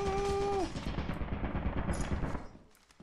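Rapid bursts of turret gunfire rattle in quick succession during a Lethal Company co-op game, loud at first and then tailing off after a couple of seconds, with a brief tonal game sound at the start.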